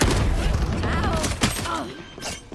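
Grenade blasts and rapid gunfire from a shooter video game, dense and loud, with a voice calling out over the chaotic bursts of shots and booms.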